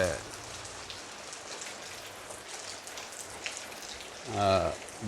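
Steady rain falls through an all-day downpour under overcast skies, a soft even hiss at a moderate distance, with a brief voice or tonal sound rising near the end.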